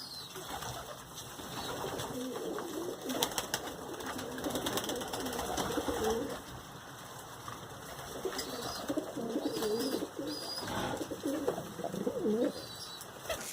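Pigeons coo repeatedly around a homemade feeder, soft low rolling calls overlapping at moderate distance with occasional faint chirps and light wing movement.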